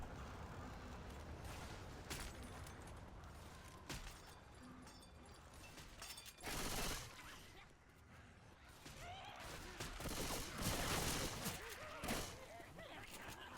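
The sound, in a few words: gunfire in the video game Left 4 Dead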